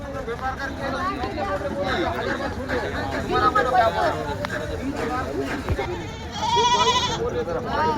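Goats bleat repeatedly amid a busy crowd of chattering voices at a goat market, with one louder bleat standing out near the end.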